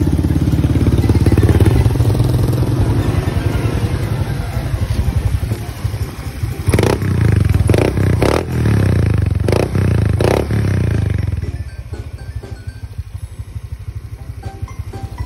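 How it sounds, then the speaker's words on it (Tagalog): A motorcycle engine is started to test a repaired exhaust, running loudly with uneven revving bursts and clattering before dropping to a quieter idle toward the end. "sinubukan na nga natin i-start kung okay na ba yung tambucho natin."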